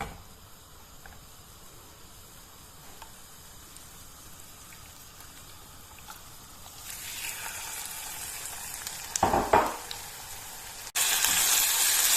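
Chicken liver is added to onions in a frying pan, a faint, steady sizzle that swells into a louder, brighter crackle near the end.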